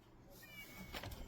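A cat gives a single short, faint meow indoors, brief and quiet against a soft room hush.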